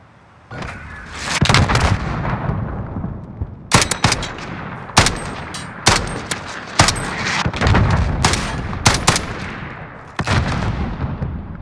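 Explosions and gunfire in the video game Call of Duty Modern Warfare, with sharp loud cracks and booms hitting irregularly over a rumbling battle backdrop, several shots in quick succession.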